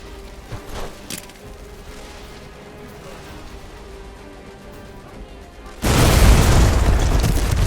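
A rockfall blast in the video game Deadfall Adventures, at an arctic base, lands as a sudden loud roaring boom after several seconds of quiet ambience and faint game noise, then rumbles on to the end.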